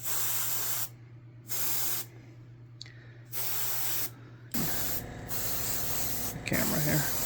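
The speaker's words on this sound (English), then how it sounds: "Give a little spray on this here." Spray paint hissing from a can onto a 1/350 scale Enterprise starship model in gold, several close bursts of about half a second separated by short pauses, then a longer rougher spray with handling noise.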